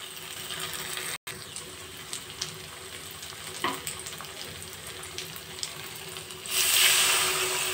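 Taro and potatoes stir-frying with spices in a pan, a continuous sizzle with scraping stirs throughout, and a brief rush of running water near the end.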